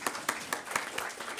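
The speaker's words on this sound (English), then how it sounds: "Y'all can clap for that." An audience at a school board meeting claps briefly, with a few distinct hand claps spaced unevenly across a short stretch, moderately loud and close.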